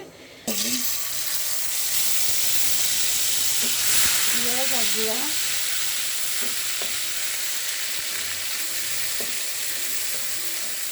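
Onion and cumin paste with garlic paste frying in a pan, a steady loud hiss and sizzle close by, with a few brief voice-like tones partway through.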